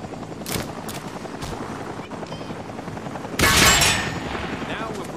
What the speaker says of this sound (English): Bring those targets down with some of your grenades.